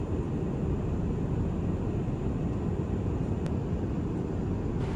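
Steady cabin roar of an airliner cruising on a Haneda-to-Istanbul flight, a constant broadband engine and airflow hiss at even, moderate level, with no voices over it.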